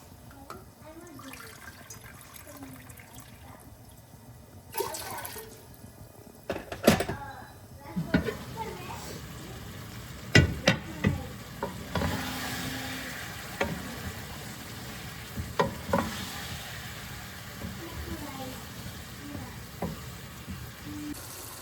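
Biryani masala sizzles in oil with scraping and stirring, punctuated by clanks of a spoon against the pot; a voice talks intermittently over it.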